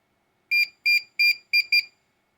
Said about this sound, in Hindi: ये बीप का मतलब है कि आपका हार्ड ड्राइव डिटेक्ट नहीं हो रहा है, उसके लिए बीप आ रहा है साउंड का।